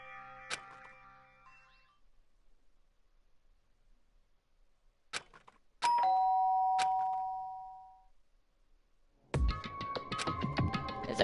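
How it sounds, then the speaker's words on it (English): In Danganronpa, a doorbell chimes with a bright, ringing tone that slowly fades out. Sharp clicks and a burst of busier sound follow, separated by quiet gaps. "did I hear the doorbell?"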